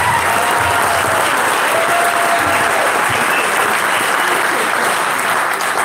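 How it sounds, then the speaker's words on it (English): Sustained audience applause at an entrepreneur and investor gathering, a dense, steady wash of clapping hands from a crowd that holds evenly through the whole stretch. "yes, please, round of applause."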